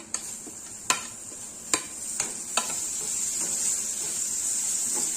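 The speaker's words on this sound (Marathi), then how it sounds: "तर टोमॅटो देखील आपल्याला थोडंसं परतून घ्यायचं थोडंसं सॉफ्ट करून घ्यायचं" Tomatoes sautéing in red masala for a chicken curry, a constant bright sizzle with several sharp stirring scrapes and taps of a spoon against the pan, close up and without speech.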